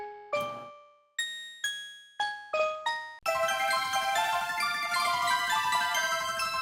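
Celesta sound font taken from Mario Party DS: several bright, bell-like single notes ringing and decaying one after another, then a sustained, denser run of chiming tones; fairly quiet and heard alone.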